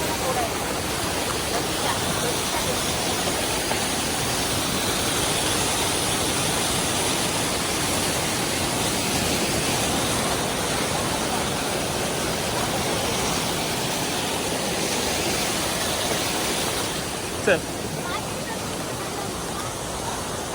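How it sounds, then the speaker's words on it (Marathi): Monsoon waterfall in Lanja, Ratnagiri in the Konkan region, roaring steadily and loud throughout, with a faint thin click late on and nothing else rising above the rushing water. "हा धबधबा पण क्रॉस केलेला आहे"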